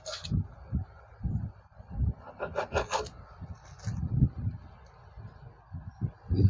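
A knife slicing ghost pepper on a cutting board for spicy noodles, with rhythmic, close rasping strokes and soft thuds repeating through the clip.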